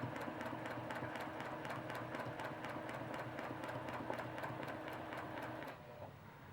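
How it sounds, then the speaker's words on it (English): A sewing machine stitches quilt fabric and batting together for trapunto work, a fast, even run of rhythmic needle clicks over a low motor hum, steady and close, slowing as it stops near the end. "stitching the fabric and the batting together"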